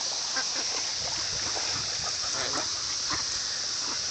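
Ducks crowd around a pond while being fed, making faint, scattered quacks and splashes over a soft, constant outdoor background.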